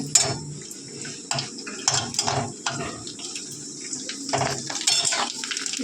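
Small fuchka puris fry in hot white oil in a wok, giving repeated bursts of close sizzling and bubbling with light clinks between them.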